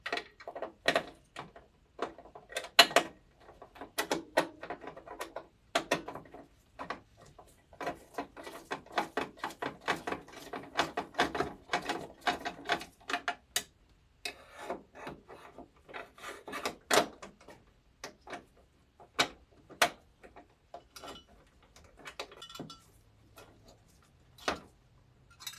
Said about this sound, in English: We're going to be unscrewing the one that's right here and right here.